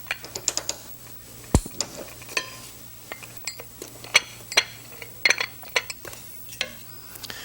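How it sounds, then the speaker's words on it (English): A heavy pan gets handled while butter melts in it, with scattered clinks, clanks and scraping of metal and utensils close by at moderate volume. "So the first thing we're going to do is to melt our butter in a heavy pan."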